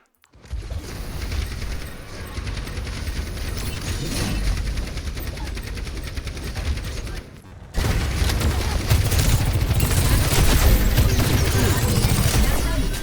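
Rapid gunfire in an Overwatch match chatters steadily and close, then jumps louder and denser about halfway through with booming impacts mixed in.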